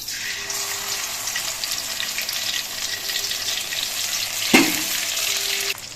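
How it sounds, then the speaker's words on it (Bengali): Pieces of banana flower (mocha) fry in hot oil with a steady, close sizzle that runs throughout, broken near the end by a brief louder clatter. "পরের দুখানাও ভেজে নিচ্ছি"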